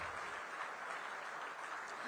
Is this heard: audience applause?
yes